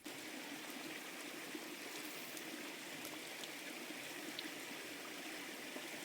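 Steady rushing of water pouring over a dam at a French carp lake, a constant gentle hiss heard from some distance, with no voices.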